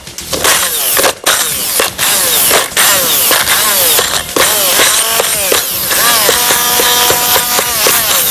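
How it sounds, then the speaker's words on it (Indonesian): An electric blender or food processor grinds ingredients for Indonesian onion stick cookies, whirring loudly in repeated short bursts with brief stops between pulses and a steadier, higher run near the end. "kita akan haluskan sampai dia tercampur semuanya"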